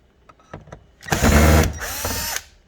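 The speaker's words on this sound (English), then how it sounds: "Now I'll remove that screw." A power drill spins out a screw from a car door panel, a loud sustained whir of about a second and a half after a few faint clicks, ending with a brief tail.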